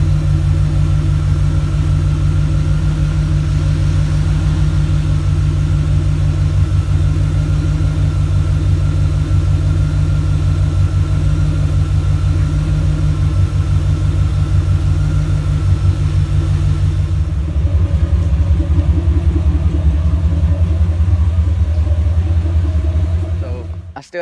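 A 1995 Chevrolet Corvette C4 engine runs steadily at a low idle, a close, loud, even rumble that holds for about twenty seconds before cutting off.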